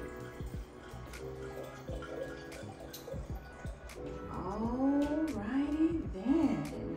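Wine is poured into a glass: a faint, quiet glugging and trickling that rises in pitch toward the end as the glass fills, preceded by soft clicks and drips.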